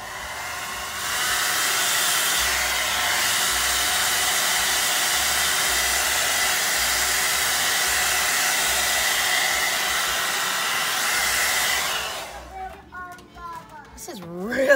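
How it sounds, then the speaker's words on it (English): Hair dryer blowing steadily for about twelve seconds while drying acrylic pour paint with XIM Cell activator on a wooden maple leaf and tile, a loud continuous rushing hiss that cuts off, followed by brief talking. "let me get my hair dryer"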